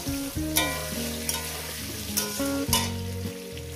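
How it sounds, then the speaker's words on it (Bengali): Salted potatoes fry in a pan for a fish curry, giving a soft continuous sizzle with a few sharp stirring scrapes, under sustained melodic tones throughout. "আলুটাকে আমি 4 মিনিট ধরে ভেজে নিয়েছি"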